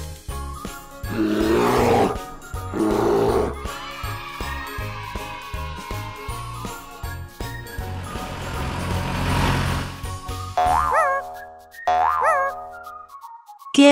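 A deep, rough bear growl rising and falling for several seconds in a children's zoo-animal lesson, loud and close, followed by bright cartoonish boing and tinkling effects.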